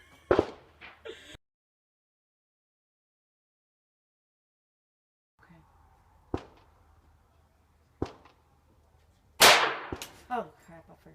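Pistol shots ring out at basic shooting practice, sharp isolated cracks separated by long quiet gaps, with the last one loudest and followed by brief voices.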